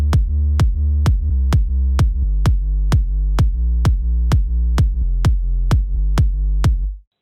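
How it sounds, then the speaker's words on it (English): A progressive house kick drum layered with a processed sub bass under hard sidechain, giving a pumping, steady four-on-the-floor rhythm of punchy thumps over a deep sustained low tone, loud and alone with no voices. "So together the kick and the sub sounds like this."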